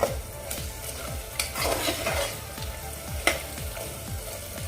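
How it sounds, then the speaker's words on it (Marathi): A spiced black bean and rice masala mixture being sautéed in a pan, with a steady low sizzle under repeated scraping stirs of a spoon against the pan, close and moderately loud, no talking. "आपण हे एक दोन मिनटं असं जरा परतूया"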